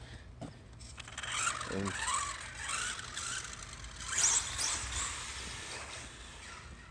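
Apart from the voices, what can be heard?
brushless motor of Feiyue FY08 RC car running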